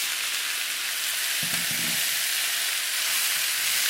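Chicken wings frying in a pan, a steady close crackling sizzle that stays even throughout, with a brief low knock partway through.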